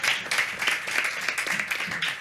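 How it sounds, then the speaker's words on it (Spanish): Studio audience applause on a Barcelona latin club music program, a steady dense wash of clapping filling the whole stretch at moderate loudness with no talk over it. "Un aplaudiment aquí també, per favor."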